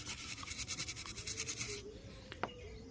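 Rapid rhythmic brushing scrubs rosin paste off a Redmi 9A phone circuit board with thinner for under two seconds, then stops, leaving faint scrapes and a single sharp tap.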